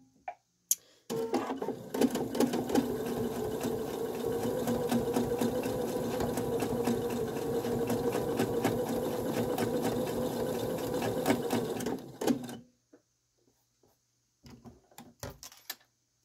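A sewing machine doing free-motion quilting, following cloud-like lines on autumn fabrics, runs as a steady, loud, continuous mechanical whir for about eleven seconds and then stops, followed by a few faint handling clicks.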